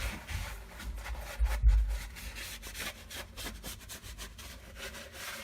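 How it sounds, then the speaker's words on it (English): A rag rubs and wipes across the transmission case of a 2011-2017 Ford Super Duty with a 6R140 TorqShift 6-speed, giving close, scratchy back-and-forth strokes in an uneven rhythm. "One last wipe of the transmission case before putting the pan back up"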